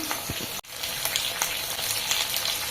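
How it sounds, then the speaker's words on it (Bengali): Garlic and ginger fry in a hot pan for a milk chicken dish, giving a steady, close sizzle that cuts out sharply for an instant, then resumes and runs on with scattered crackles. "এবার আমি একটু রসুন আর আদা দেবো"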